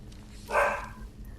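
A single short, faint dog bark rises out of quiet background in a fantasy video game during a late-night stream.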